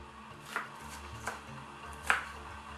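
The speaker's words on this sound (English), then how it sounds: "The easiest way to do this is just to stack them and then just slice down." Knife slicing down through stacked winged beans on a board: three crisp, separate cuts spaced about evenly, quiet and close, over a low steady hum.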